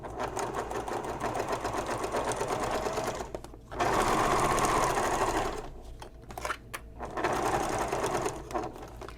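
A sewing machine stitches a messenger bag in close, loud bursts of rapid needle chatter. Short pauses break the bursts as the fabric is stopped and repositioned.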